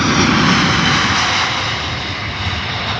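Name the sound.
Virgin Atlantic Airbus A330 jet departing Heathrow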